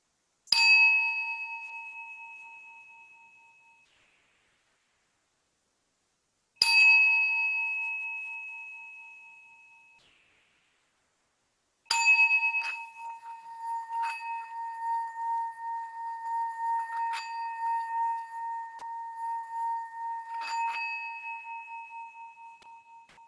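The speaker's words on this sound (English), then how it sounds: "after I finish ringing the singing bowl, we will come to a close." A singing bowl is struck three times at the close of a yoga session, each strike ringing out clear and sustained before fading, the last ring wavering and pulsing as it lingers.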